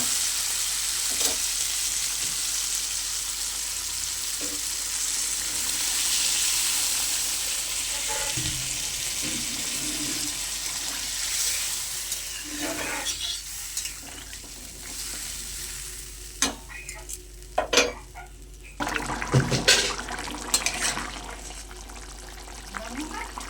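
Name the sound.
water added to sautéed potatoes in pan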